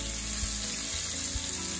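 Meat browns in a hot pan with a constant broadband sizzle and hiss, close and steady, with a few faint low bumps underneath.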